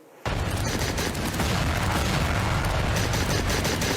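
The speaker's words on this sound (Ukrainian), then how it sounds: "Зенітно-ракетний комплекс Стінгер наводимось, робимо постріл." A loud, continuous barrage of weapon fire and booming blasts from a Stinger missile launcher in the video game Glory to the Heroes begins abruptly after a brief silence and rumbles on without pause.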